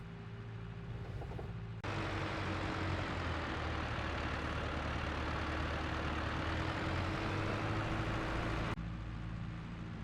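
Tractor engine in a farming video game, a steady low rumbling idle heard from inside the cab, getting louder and fuller for most of the stretch before dropping back to a quieter hum, with no talk.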